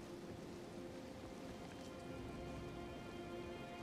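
Steady rain falls in the Elden Ring Shadow of the Erdtree game world, a soft, even hiss that stays constant throughout with no voices over it.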